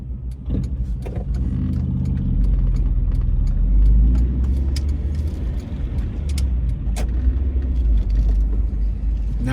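Car rolling through Philadelphia city streets in Kensington, a steady close engine rumble with brief clicks and small knocks over the road noise.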